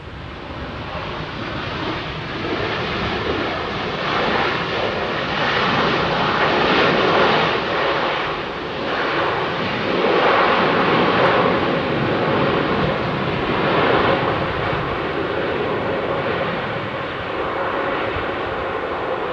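Airliner jet engines at London Heathrow Airport, a broad steady roar of a large aircraft winding down, sustained and loud with gentle swells, no voices over it.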